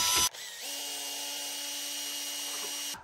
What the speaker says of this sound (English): let's give this a mix with the drill